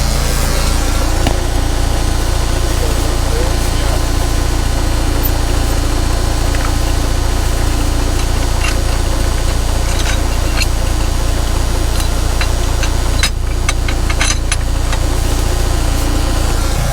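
A Farmall Super M tractor engine idles steadily while readied to skid heavy oak logs, a loud, close, continuous low chugging rumble with a few faint clanks and knocks near the end.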